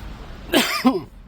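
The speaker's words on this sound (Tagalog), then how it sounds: "uubo-ubo tayo" A man with a cold-sore throat on a snowy morning outdoors in East Vancouver coughs twice in quick succession, close and fairly loud, with a throat-clearing quality.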